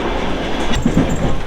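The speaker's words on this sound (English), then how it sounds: "I'm standing in between 2 train carts right now" An old Soviet overnight train running from Khiva to Tashkent in Uzbekistan, heard from the gap between two cars: a loud, constant rumble and rattle of wheels and couplings with a sharp clack partway through.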